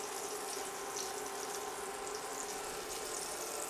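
A kitchen tap runs steadily for hand washing during venison stew preparation, a continuous close hiss of water splashing into a sink, alone and unbroken.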